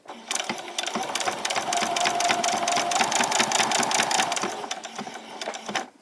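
Sewing machine stitching around a pajama top, a steady close whirring run of rapid needle strokes lasting several seconds with a brief pause near the end, no talking.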